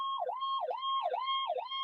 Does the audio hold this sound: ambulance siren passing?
yes